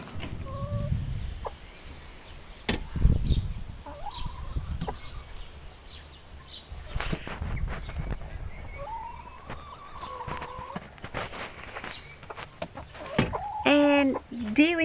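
Hens in a coop, one of them broody, cluck softly and intermittently at close range over a low background, with a few higher calls near the end.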